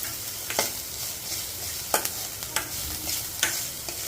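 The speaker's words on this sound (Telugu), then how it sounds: "కొద్దిగా ఫ్రై అవనిద్దాం" Spices with amchur powder and black cumin fry in a pan for a Bengali bread chop filling, a soft continuous sizzle broken by a few sharp stirring scrapes, close and without talk.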